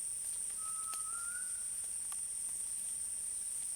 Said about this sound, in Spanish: Un tinamú canelo canta a la lluvia.